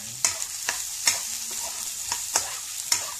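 Garlic and onion sauté in a pan for chicken tinola, giving a steady close sizzle broken by a utensil scraping and stirring about every half second to second, with no talk.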